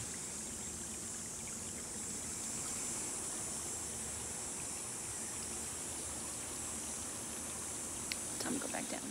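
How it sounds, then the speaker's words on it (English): Steady rushing water from waterfalls and a stream fills the clip, a constant broad hiss, with a few faint knocks near the end. "Seeing all the waterfalls I went up."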